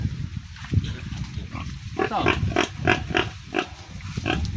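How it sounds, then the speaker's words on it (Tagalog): A sow grunts on a farm in a run of rhythmic, nasal grunts close by, with a few faint words spoken over them. "Mayroon naman tayong inahay na baboy."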